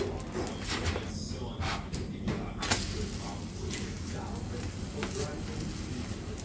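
Pizza built on a spring-roll wrapper fries in a pan and is flipped back and forth, giving a steady close sizzle with occasional scrapes and knocks; a voice may be faintly present.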